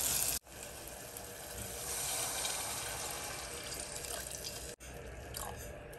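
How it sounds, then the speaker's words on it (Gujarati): Water pours steadily from a vessel into a pot of misal curry in a home kitchen, a continuous close splashing stream that starts abruptly, runs for several seconds and cuts off. "હવે આપણે એમાં પાણી ઉમેરશું."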